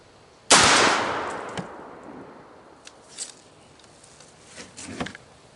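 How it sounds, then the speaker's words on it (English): A single loud shotgun blast firing a Winchester Long Beard XR turkey load through a Carlson's Long Beard XR choke tube, with a sharp onset and long fading outdoor echo, followed by a few faint clicks and knocks. "First round that we're going to fire is the Winchester Long Beard XR."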